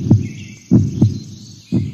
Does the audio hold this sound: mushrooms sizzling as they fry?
no